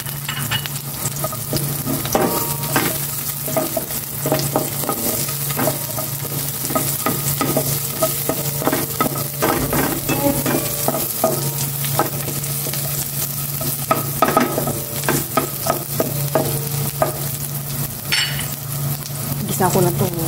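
Bitter gourd sautéing with garlic and onion in a pan, a steady close sizzle with frequent stirring scrapes throughout, no talking.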